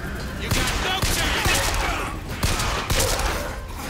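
Gunfire from a weapon in Bioshock Infinite rings out as sharp, loud shots in quick clusters, about eight bursts over a few seconds against busy game background noise.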